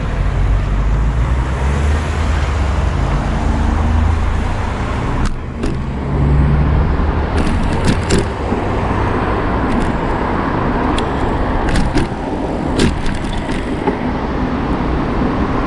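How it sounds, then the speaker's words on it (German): Continuous loud city street traffic heard from an e-bike, cars rolling past close by, a steady roar broken by a few brief clicks and knocks. "So, Großstadtgetummel, hier ist es ein bisschen lauter. Lauter als auf dem Land."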